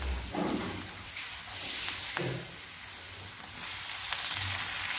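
Onions frying in an iron pan for a dried Bombay duck thecha, giving a steady broadband sizzle with a few soft stirring bumps at close range and no speech.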